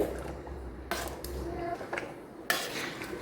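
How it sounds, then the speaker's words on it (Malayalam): Fish pickle being stirred in a pan, a few soft utensil scrapes and clinks against the metal at irregular intervals, close and fairly quiet over a low background hum. "ഇടയ്ക്കിടയ്ക്കൊന്ന് ഇങ്ങനെ ഇളക്കി കൊടുക്കുക, കാരണം അടിയിൽ പിടിക്കും."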